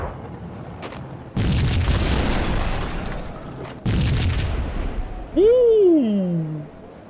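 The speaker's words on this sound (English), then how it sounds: "I'm actually starting to like this shotgun." Two heavy shotgun blasts in the video game Max Payne, each a sudden loud boom with a long rumbling tail, spaced a few seconds apart, followed by a rising and falling whoosh.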